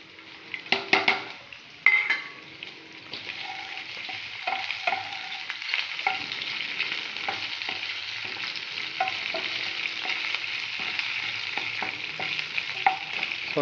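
Curry leaves dropped into hot oil for a homestyle chicken fry, bursting into a loud crackling spatter at first, then settling into a steady, close sizzle with faint utensil clinks.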